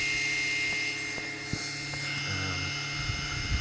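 Dynamotor running and bogging down under load, a steady droning motor hum with a high whine above it that lasts throughout, with a few faint clicks.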